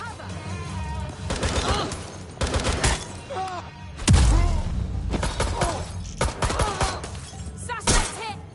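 Bursts of gunfire in a Watch Dogs: Legion firefight, loud and close, with repeated volleys and a heavy thudding blast midway, mixed with game voices shouting.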